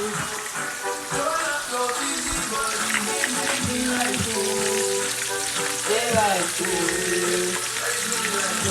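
Jamaican-style escovitch fish fries in a pan with a dense, steady crackling sizzle close by. Faint voices and background sounds murmur underneath.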